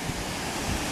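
Atlantic Ocean waves wash onto a Florida beach in a steady, loud roar of surf with wind noise over the microphone and no speech.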